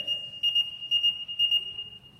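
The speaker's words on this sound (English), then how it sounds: "our pager goes off, and it kind of sounds like this" Fire department pager sounding its alert tone, a piercing high beep repeated in four quick pulses, close and fairly loud with no voices over it.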